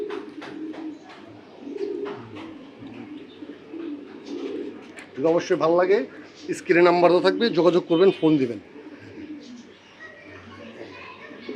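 Racing pigeon squabs from a club's loft coo softly in low rolling notes beneath someone talking throughout, with a louder burst of voice in the middle.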